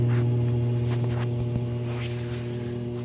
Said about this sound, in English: buttons control this motor, and there's a start button and a speed variation